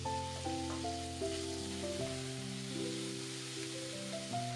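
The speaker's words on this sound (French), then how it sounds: "saisir la viande 30 secondes" Meat searing in hot oil in a sauté pan over high heat gives a steady, soft hissing sizzle beneath background music, with no talking.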